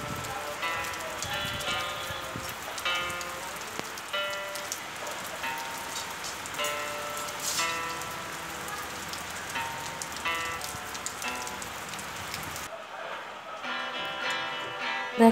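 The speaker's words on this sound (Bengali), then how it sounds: "এখানে দেখো সন্ধ্যা হতে না হতেই ঝমঝম করে বৃষ্টি শুরু হয়ে গেল।" Heavy evening rain pours down hard, a dense continuous drumming and splashing close by that stops abruptly near the end.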